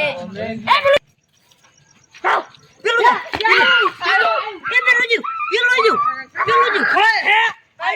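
A dog barks and yelps in several loud bursts close by, with excited voices and shouting mixed in throughout.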